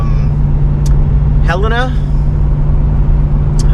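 Steady loud engine and road drone inside a car on a long day of driving through scenic country, a constant low rumble with a person briefly talking over it.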